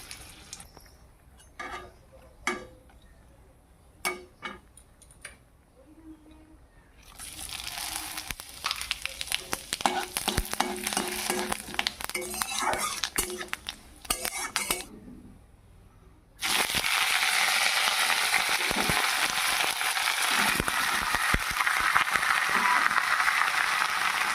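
Cumin seeds and dry red chilies hit hot oil in a pan, giving scattered crackles and pops that build into a loud, continuous sizzle over the second half.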